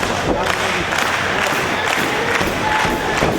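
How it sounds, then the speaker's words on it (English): Wrestling crowd at an ROH Supercard of Honor show cheering and shouting, a dense, loud, continuous roar with rhythmic bursts and thumps throughout. "Crowd getting into this one here"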